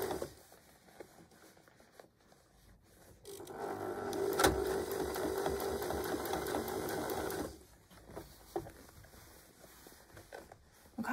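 A sewing machine stitches across a rip in denim jeans being re-patched, a steady run of rapid needle strokes lasting about four seconds with faint handling noises before and after.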